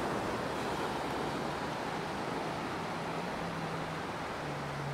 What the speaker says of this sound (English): this is what the ocean's like here